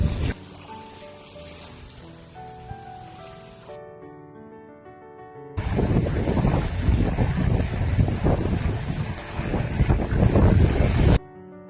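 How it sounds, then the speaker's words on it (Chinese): Strong wind gusting on a riverbank before a heavy rainstorm, roaring and buffeting the microphone in a loud continuous blast that follows a quieter stretch. "现在 狂风，看那边的云彩黑的很"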